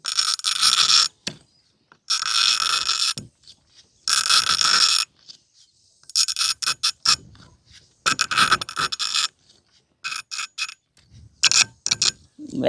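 A glass bottle turned by hand in a bottle cutter machine, its handle pressed down, producing bursts of high, gritty scraping and squeaking that alternate with short silences as the bottle is rotated.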